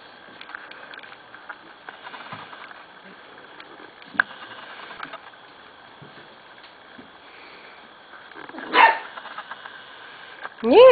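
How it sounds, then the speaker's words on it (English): Quiet room tone with faint shuffling, then a single corgi bark near the end, followed by the start of another yelp. "are you barking at me?"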